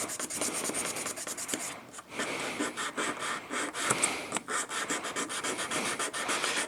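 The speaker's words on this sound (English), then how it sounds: "you want to definitely use a little block so you're holding the sandpaper nice and flat on that blade" Sandpaper wrapped on a small block rasps along an old steel knife blade in steady back-and-forth strokes, close and fairly loud with a short pause partway through.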